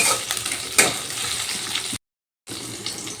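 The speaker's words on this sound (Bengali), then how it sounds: "এবার দিয়ে দিচ্ছি কুচি করে রাখা টমেটো দিয়ে আবার একটু ভালো করে ভেজে নেব" Chopped tomato frying with coconut in oil, a dense crackling sizzle with a few stirring scrapes, broken by a brief cut to complete silence before the frying resumes, close and with no voices.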